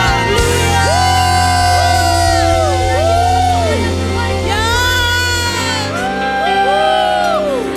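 Church congregation at an online worship service cheering hallelujah, with loud overlapping shouts and whoops from many voices over steady music, continuous and close throughout.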